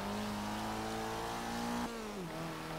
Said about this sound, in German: Für einen Vierzylinder klingt der ordentlich.